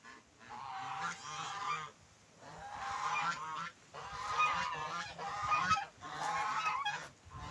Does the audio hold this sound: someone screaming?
no